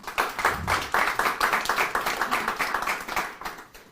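An audience at a talk claps in a lively round of applause, a dense patter of many hands with rhythmic swells, close and steady for several seconds.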